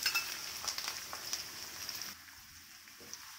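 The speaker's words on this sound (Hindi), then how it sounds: "गोल्डन ब्राउन करके अभी आनियन को फ्राई कर लूंगी" Finely chopped onions sizzle and fry in oil with whole spices like mace, black cardamom and cinnamon for Kolkata-style mutton biryani, a steady close crackle with light stirring.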